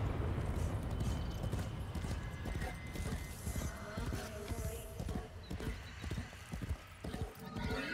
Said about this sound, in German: Mann, dieses Pferd ist echt schnell.